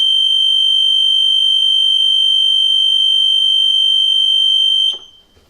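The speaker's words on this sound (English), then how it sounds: "the high level alarm will activate" A loud, steady high-pitched pump station high level alarm from a DrainMajor 60 Duo sounds continuously for about five seconds, then cuts off abruptly, leaving faint background noise.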